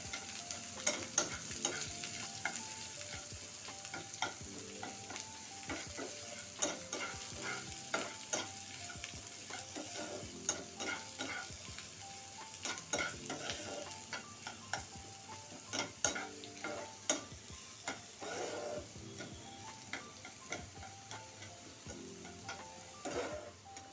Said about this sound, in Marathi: कांदा छान आपल्याला परतू द्यायचा आहे आता व्यवस्थित एकदम